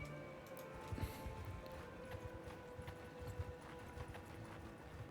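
Horse hooves clip-clopping in Mount & Blade: Bannerlord, a steady run of overlapping muffled thuds from several mounts at moderate distance, fairly quiet and continuous with no talk.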